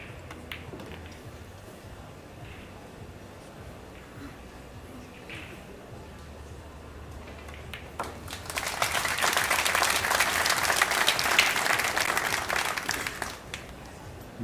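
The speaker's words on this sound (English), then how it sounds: "Nice round of applause" At a world championship 10-ball pool match, quiet venue murmur and brief speech give way to a swelling round of audience applause that holds for several seconds before fading.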